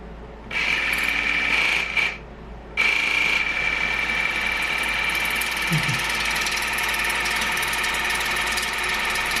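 An Aquapick oral irrigator water flosser runs close by with a steady whining motor hum, briefly stopping and restarting before droning on continuously.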